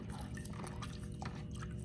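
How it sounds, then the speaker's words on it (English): Water is splashed and dribbled onto clay on a spinning pottery wheel during centering, giving steady wet spattering and dripping over a constant whir of the wheel, close and continuous. "now I'm going to add just a little bit of water"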